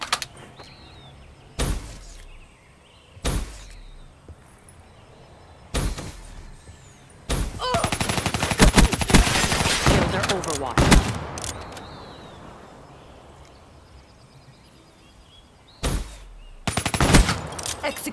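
Annihilator gunfire in a video game, single heavy shots heard alone at intervals, then a dense loud burst of rapid fire mid-clip with other battle noise, and more sharp blasts near the end.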